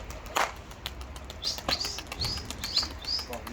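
Mardin Seferli tumbler pigeons take off with sharp bursts of wing flapping, a few chirps and short calls scattered among them at close range.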